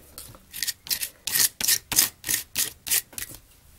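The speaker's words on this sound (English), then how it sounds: "As I scrape it on the paper," Gritty texture paste is scraped across paper in about nine short rasping strokes, each a rough, crisp scratch separated by brief pauses, close and clear with no talking.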